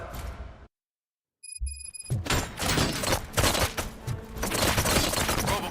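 Gunfire from the video game RoboCop: Rogue City: after a brief silent gap and a few electronic beeps, dense overlapping shots and impacts rattle out loudly in rapid bursts.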